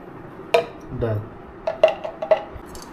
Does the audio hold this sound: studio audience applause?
no